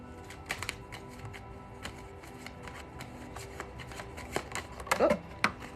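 Tarot cards being shuffled by hand during a daily reading, a soft papery riffling with light taps that builds to a brisker flurry of card snaps near the end, heard up close in a quiet room.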